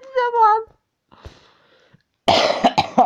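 Several harsh coughs from a man playing the strategy game Dawn of Steel, a burst of loud rasping hacks near the end after a stretch of speech and quiet.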